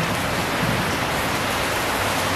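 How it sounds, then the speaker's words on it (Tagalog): Rain falling at night in Bali makes a steady, dense hiss of downpour, loud and even throughout, with no voices. "Umuulan na."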